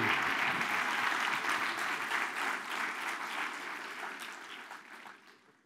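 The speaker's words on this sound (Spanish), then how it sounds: "si va a aplaudir, apláudale bien para él" Audience applause at a session of a Spanish-language event, a dense steady wash of many hands clapping that fills the room and gradually fades toward the end.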